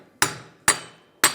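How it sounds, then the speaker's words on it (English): Three sharp metallic hammer blows land flat on a rear axle of a 2003-2011 Honda Element during a wheel bearing replacement, evenly spaced and ringing briefly, close and loud with no talk. "You can try and use a hammer right here, as long as you're hitting it flat."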